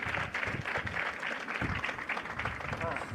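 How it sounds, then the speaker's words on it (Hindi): An audience at a live Bhagavat Katha religious discourse claps steadily and fairly loudly, with voices mixed in beneath the applause. "आप ही ताली बजा लो एक बार जोर से।"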